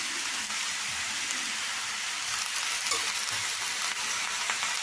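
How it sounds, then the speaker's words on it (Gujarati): Bottle gourd curry with turmeric is stirred in a hot pan, making a continuous hissing sizzle with occasional soft scraping and shuffling sounds, moderately close and steady. "હલાવી દઈશું। મિક્સ કરી દઈશું। હળદર એડ કરીશું।"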